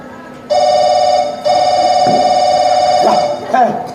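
An electronic phone ringtone trills steadily in two bursts, loud and close, with a brief gap between them and a voice faintly heard near the end.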